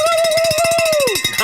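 A cowbell sound effect clanks in rapid repeated strikes, with a loud voice sliding over it and then dropping off at the end.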